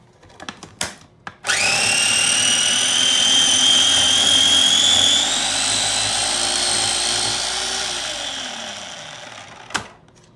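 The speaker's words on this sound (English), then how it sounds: "We're going to grind all this up" A blender or food processor grinds basil for pesto, starting with a few short knocks, then spinning up to a loud, steady whir that slowly winds down, followed by a sharp clack near the end.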